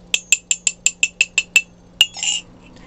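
Glass items clinking, a run of nine sharp, bright taps at a brisk, even rhythm, then a pause, one more clink and a short ringing rattle, close and loud with no talk.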